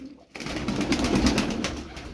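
Domestic pigeons, including a blue pigeon of a Turkish breed, coo in a low, throaty rolling murmur close by after a brief pause, with soft rustling around them.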